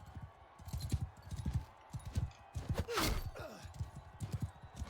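Horse hooves clip-clop at a steady trot in Mount & Blade II: Bannerlord, a rhythmic run of close, moderately loud hoofbeats. A brief whoosh and clatter cut in midway.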